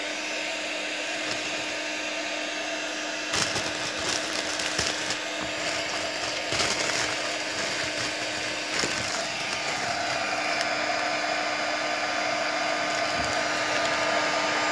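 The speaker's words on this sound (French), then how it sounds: "avec le heat gun, on va attendre que ça sèche un petit peu et puis on va venir" A heat gun blows a steady, droning stream of hot air to shrink plastic on a DIY holiday gift, with a few clicks and handling knocks over the constant hum.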